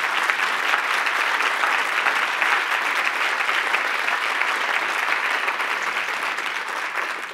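Sustained, dense applause from a large audience at a university state-of-the-university address, steady and loud throughout, with no voices breaking through.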